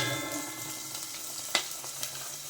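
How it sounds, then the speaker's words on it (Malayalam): Ginger garlic paste hits hot oil in a clay pot for a traditional Kerala fish curry, giving a steady close hiss with a couple of sharp clicks of a utensil against the pot. "എണ്ണ ചൂടായിട്ടുണ്ട്, നമുക്ക് ഇഞ്ചി വെളുത്തുള്ളി പേസ്റ്റ് ഇടാം"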